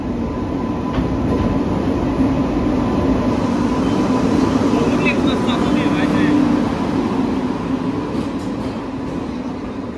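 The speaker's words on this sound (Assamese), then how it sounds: "ফাইনেলি আমাৰ ট্ৰেইনখন আহি পালেহি।" A train arriving at a station rumbles steadily close by with a loud, continuous roar and faint rail clatter, gradually easing toward the end.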